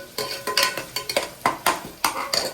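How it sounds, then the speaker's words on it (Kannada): Onions frying in a pan while a ladle stirs them, giving rhythmic scraping strokes about twice a second over a soft sizzle, loud and close. "ಚೆನ್ನಾಗಿ ಫ್ರೈ ಮಾಡ್ಕೋಬೇಕು ಆನಿಯನ್ಸ್ನ"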